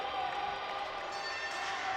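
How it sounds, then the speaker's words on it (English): Edina Hornets fans cheer in the stands at a youth hockey championship, a steady wash of distant crowd noise with no distinct claps or shouts standing out. "Some Edina Hornets fans there in the stands cheering on their team"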